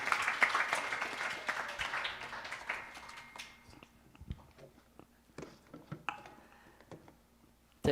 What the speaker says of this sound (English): Let us give our Vyas ji a round of applause